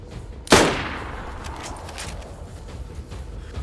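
A single sharp gunshot from the video game DayZ cracks out close and loud, followed by a long fading echo tail over quiet background.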